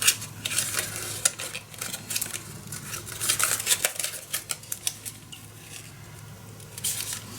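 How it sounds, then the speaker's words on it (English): Paper being creased and folded by hand for a large 12x8.5-inch interactive wedding mini album, with soft crinkles, scrapes and sharp taps in irregular close bursts, no talking. "Now I can fold that other little piece, other little fold line."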